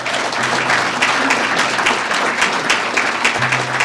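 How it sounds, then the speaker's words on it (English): A large audience at a credit union awards event breaks into sustained, loud applause, a thick continuous wash of clapping lasting several seconds. "May I have a rousing round of applause for these folks?"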